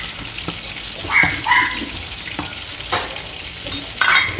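A spatula stirs a bangus sisig mixture with mirin in a pan, giving soft scrapes and occasional knocks over a faint sizzle, close by with brief bright squeaks.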